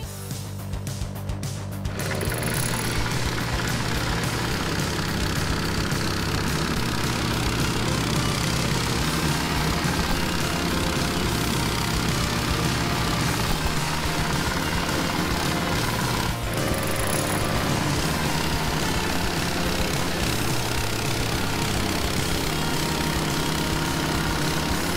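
A snowblower fitted with a taller chute churns through piled snow, its engine roaring steadily and loudly throughout, with a brief clattering burst at the start and a consistent heavy mechanical drone after.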